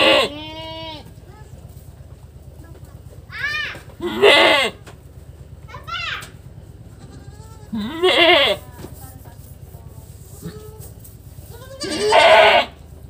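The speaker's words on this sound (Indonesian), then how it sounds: "Ini kambing teriak ini dia berarti masih birahi atau masih mau minta kawin dia." A goat in heat bleats loudly in several separate bursts spaced a few seconds apart, close by, over a steady low hum of background noise.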